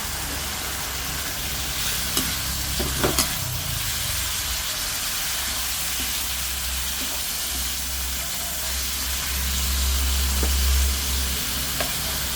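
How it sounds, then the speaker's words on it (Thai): Eel stir-frying in a hot pan for a spicy Thai stir-fry, a steady close sizzle and hiss with a few scraping stirs and clatters, with no talking. "แล้วก็ใส่ปลาไหลลงไปนะคะปลาไหลลงไปคั่วค่ะ เอาลงไปผัด"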